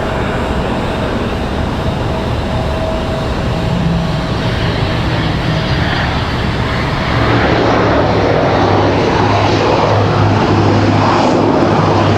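A Boeing 787 Dreamliner jet rumbles steadily at an airport, growing somewhat fuller partway through as the engine noise builds, with no voices heard.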